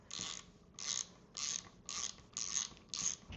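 A hand ratchet tightens riser screws on a 2026 Harley Davidson Nightster, giving six evenly spaced bursts of quick clicking, close and fairly quiet, with no talking.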